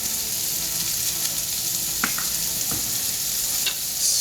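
Pumpkin mixture sizzling steadily as it fries in a pan, with a few scraping stirs of a spoon cutting through the constant close frying hiss.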